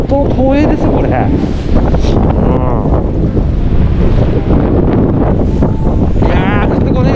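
Strong, constant gusts of about 15 m/s roar across the microphone at a fishing harbour in Akita during a winter sandfish outing, with surf beneath and people talking through the wind.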